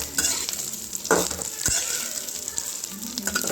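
Masala muthiya made with bottle gourd being stirred in a pan of hot oil: a steady close sizzle with scraping strokes and a sharp clatter of the spoon midway, no talking.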